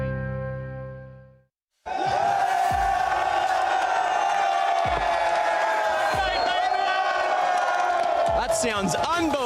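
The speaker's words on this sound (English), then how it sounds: "This crowd is insane" A large esports crowd at a CS2 tournament semifinal in Melbourne roars, whoops and cheers loudly and continuously after a brief tone and a moment of silence, with bursts of louder shouts throughout.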